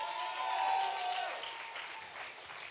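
A church congregation applauds at a Vision Sunday service, a broad steady wash of clapping that holds moderately loud for a few seconds before easing slightly, with a faint sustained tone in the background.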